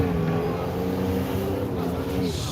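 A racing lawn mower engine holds a steady, droning high-RPM whine during a competition run at a northwestern Michigan fair, with continuous loud mechanical hum throughout.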